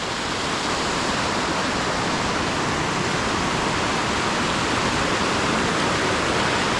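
Water rushes through an old, overgrown watermill channel at Mlinčići in Jajce, a loud, steady broadband roar of flowing water that holds constant throughout with no voices.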